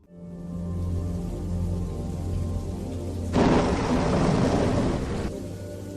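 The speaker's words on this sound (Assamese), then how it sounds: "বৰষুণ।" Steady rain falls, then a loud rolling thunderclap breaks in midway and rumbles for a couple of seconds before easing back to the rain and a low hum.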